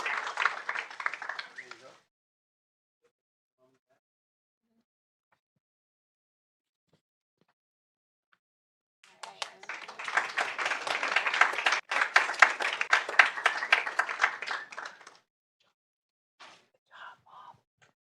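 Two bursts of audience clapping fill a school board meeting hall, a brief one at the start and a longer, louder round in the middle, followed by a few scattered claps near the end.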